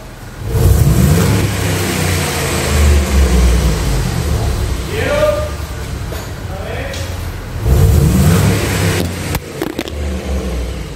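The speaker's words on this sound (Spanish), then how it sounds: "voy a acelerar el vehículo" A car engine revved repeatedly while the vehicle sits being accelerated, with loud rising surges near the start and again later, separated by steadier running.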